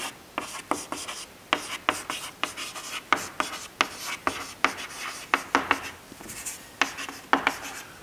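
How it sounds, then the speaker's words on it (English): Chalk or marker strokes on a board during a bone metabolism lecture, a steady series of short scratchy squeaks and rubs at close range with no talking. "I'll write it down, or OPG."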